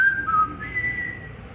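A person whistles a short tune, a clear close melody sliding between a few pitches with one sustained high note, heard alone without talking.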